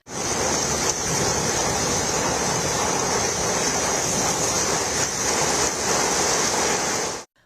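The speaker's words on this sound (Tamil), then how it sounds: "இன்று அதிகாலையில் திடீரென பலத்த சூறைக்காற்றுடன் கூடிய கனமழை கொட்டி தீர்த்தது" Heavy early-morning downpour with strong gusting winds in Delhi, a loud, dense and continuous hiss of rain and wind roar with no talk.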